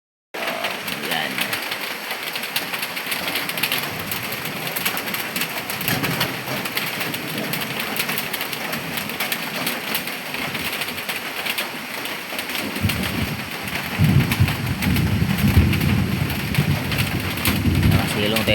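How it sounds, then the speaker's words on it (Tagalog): Heavy rain pours steadily during the rainy season beside a small store where people shelter, a dense close hiss that swells louder near the end, with voices talking over it. "Lakas ang ulan kasi"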